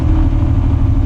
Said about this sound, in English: So what you're hearing right now is the engine brake.